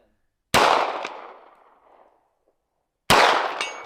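Two sharp gunshots ring out about two and a half seconds apart, each with a decaying echo, fired outdoors on a ranch at a small red target 100 yards away.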